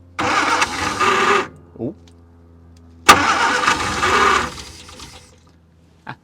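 A 1972 Austin van with a non-working fuel pump, left for 30 years, cranks loudly in two bursts, the engine catching briefly and dying away, with a short exclamation from a voice.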